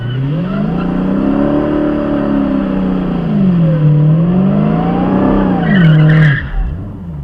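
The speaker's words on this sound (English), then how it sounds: "So now I'm there, holding my button. Now I can start rolling into the gas." A Dodge Challenger SRT Demon 170 drag car revs hard, its engine pitch rising and falling in long loud sweeps before a sharp burst of tire screech near the end.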